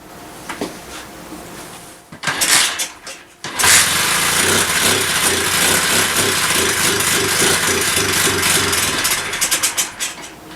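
A small engine on a Honda Z50 clone mini bike sputters and catches, then runs loud and close with an uneven, surging idle that wavers and dips as if starved of fuel.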